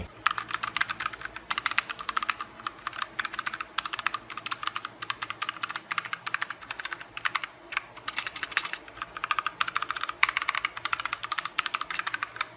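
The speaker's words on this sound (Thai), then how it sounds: "หรือว่าหาคีย์บอร์ดแบบเงียบๆตัวนี้ก็ถือว่า ตอบโจทย์เลยนะครับ เพราะว่าเสียงตัวนี้มันเบามาก ๆ" Quiet linear switches on a Tsunami MK-61 PRO hot-swappable 60% mechanical gaming keyboard being typed on, giving a soft, steady patter of muffled keystrokes close up with no talking.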